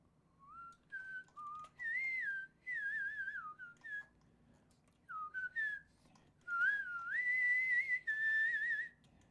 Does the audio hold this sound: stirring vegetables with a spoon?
no